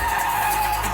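A car skids in a film chase on Chicago streets, a steady sustained tire squeal lasting under a second, loud and close with no talk over it.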